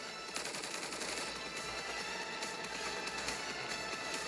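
Sustained machine-gun fire in the Punishing Gray Raven video game, a dense rattling fusillade of rapid shots layered over a constant battle roar, loud and unbroken with no speech.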